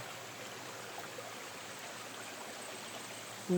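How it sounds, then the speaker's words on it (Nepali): Steady, continuous rushing of water flowing in an irrigation channel, even and unbroken, with no voices. "लगातार कन्टिन्यू पानी आइरहेको छ"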